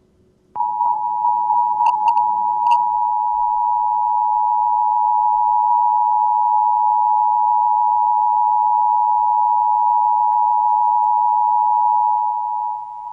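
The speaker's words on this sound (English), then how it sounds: "That sound right there is from the emergency broadcasting system." A loud, steady Emergency Broadcast System alert tone sounds alone and unbroken for over ten seconds, starting abruptly, with a few faint clicks near its start.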